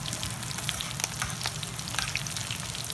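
Shrimp frying in hot oil, giving a steady, dense sizzle with crackling pops throughout, close and fairly loud with no voices.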